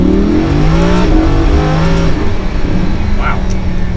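A V10 supercar with an aftermarket exhaust, an Audi R8 or Lamborghini Huracan, revs up hard after a bump, its engine note climbing in pitch, loud and close, with a voice audible briefly underneath.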